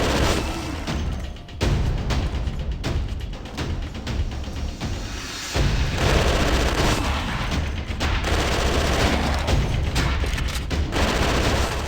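Dense bursts of automatic gunfire and booming blasts from a zombie shooting game for mobile play, loud and nearly nonstop, with rapid rattling volleys and heavy impacts through the whole stretch.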